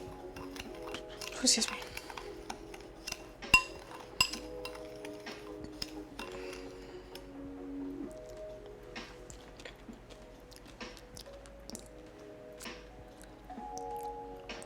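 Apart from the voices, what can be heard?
spoon clinking while stirring a pot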